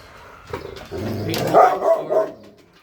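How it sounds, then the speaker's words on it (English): Dogs fighting outside bark and yip in several quick, loud bursts that rise to an agitated peak and then die away into near silence. "the dogs are fighting, carrying on"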